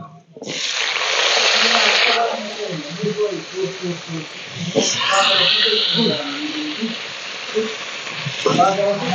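Drumstick stems and potatoes hit a hot pan with a loud burst of sizzling that settles into steady frying, while a person speaks over it.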